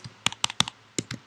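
Code is typed on a computer keyboard in a few quick bursts of crisp, close key clicks separated by brief pauses, with no voice.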